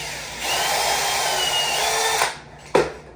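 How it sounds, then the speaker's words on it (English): A power drill whirs loudly for about two seconds while drilling a small hole near PVC base moulding in a bathroom, winds down, then gives one short burst. "That drill right in there."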